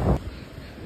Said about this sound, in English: it's very windy. Look at the wind.